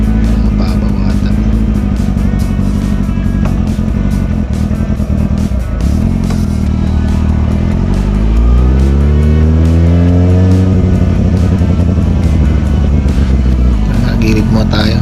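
A motorcycle engine idles and then revs up and back down on a test ride after a cylinder head gasket replacement, with worn spark plugs and a shallow clutch lever. The engine runs loud and close throughout.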